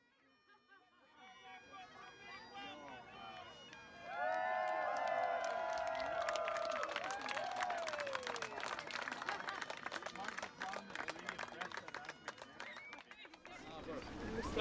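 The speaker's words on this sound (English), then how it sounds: "And a crowd from the fort to welcome us home." A crowd at a fort cheers and claps to welcome a returning York boat brigade, rising from scattered voices into a loud, sustained swell of cheering and applause mixed with shouted talk, then tapering toward the end.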